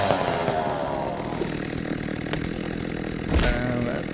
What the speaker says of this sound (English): I still got the chainsaw.